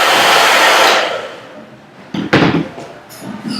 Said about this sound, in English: and the blow dryer.